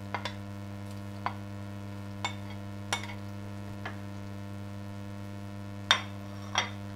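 Beef mixed into egg in a frying pan, a spatula tapping and scraping the pan in scattered sharp clicks over a constant low electrical hum and soft sizzle.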